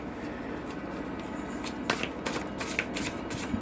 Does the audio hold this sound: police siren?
no